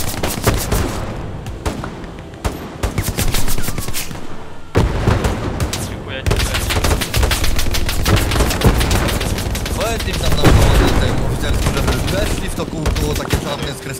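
Repeated gunfire from rifles and machine guns in the World War II shooter game Hell Let Loose, sharp close shots and bursts over constant battlefield noise, with players talking over it throughout.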